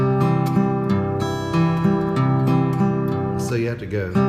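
An acoustic guitar plays a thumbpicked pattern in the style of the greats, with a steady alternating bass under ringing melody notes, close and clear, ending with a brief strum.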